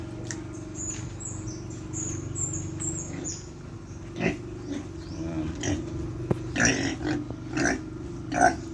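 Pet pigs grunting and snuffling close by, several short rough bursts that grow more frequent toward the end, over a low steady background hum.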